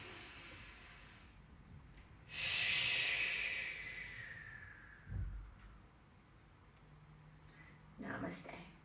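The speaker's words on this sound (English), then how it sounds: "Let's take one more deep breath together." One slow, deep breath taken during a yoga session: a loud airy inhale, a long hissing exhale that fades out, then a softer second breath near the end, all without speech.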